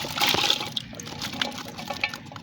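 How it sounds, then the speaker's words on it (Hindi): Half a glass of water is poured into a cooking pot of mince with potato, ginger and garlic, a brief splashing gush at the start that fades to light bubbling and trickling. "आधा गिलास पानी शामिल करेंगे।"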